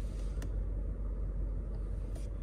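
A 2020-2023 Lexus GX460 rolling slowly through a residential neighborhood, heard from inside as a steady low engine and road rumble with a couple of faint clicks, no talking.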